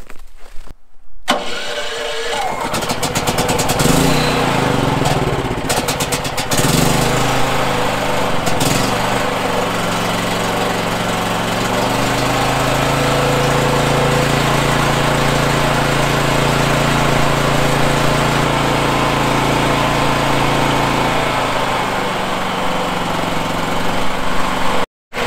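Small Harbor Freight inverter generator engine starting with choke out, then running steadily and loudly nearby with a constant hum for over twenty seconds, no talking.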